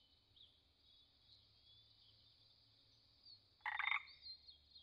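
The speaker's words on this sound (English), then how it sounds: "Tomato frog." A tomato frog gives a single short croaking call near the end, fairly loud over a steady high insect-like drone and faint low hum.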